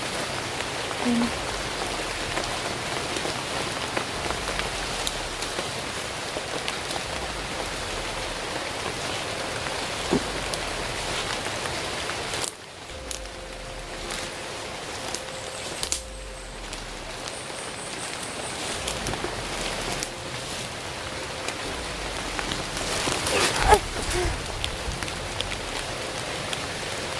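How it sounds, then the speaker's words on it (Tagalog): Heavy rain pours down steadily in a loud, dense, continuous hiss for nearly half a minute, dipping briefly midway before returning to full strength. "Sobrang lakas ng ulan."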